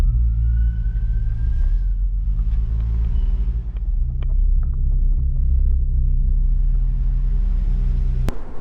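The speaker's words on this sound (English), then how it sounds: "So we've just set off on our drive." A boosted Toyota GT86 pulls away, its engine rumbling low and steady, rising then settling as it drives off, with a couple of faint clicks partway through.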